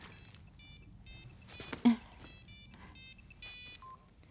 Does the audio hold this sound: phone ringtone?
yes